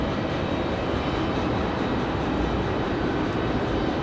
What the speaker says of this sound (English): This one coming in from Charlotte, American 2616, A321.